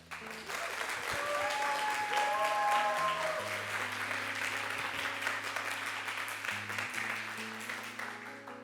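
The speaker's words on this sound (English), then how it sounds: "huge round of applause for Aidan Rode." Loud, sustained applause from a TEDx talk audience fills the room, steady throughout, with background music playing underneath.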